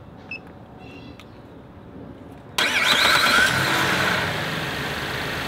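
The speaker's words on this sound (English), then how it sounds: "Now we'll test the starter." A car's engine, run for a starter test, is quiet for a few seconds before the starter cranks briefly and the engine fires up abruptly, then settles into a loud, steady idle that eases slightly toward the end.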